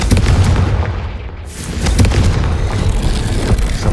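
Confringo fire spell in Hogwarts Legacy, a loud booming blast followed by a rumbling, crackling tail and a second heavy thump, dense and close with no voices.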